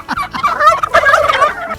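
Male turkeys gobble in a rapid, rattling chorus that runs loud and close for nearly two seconds, with several birds overlapping in continuous bursts.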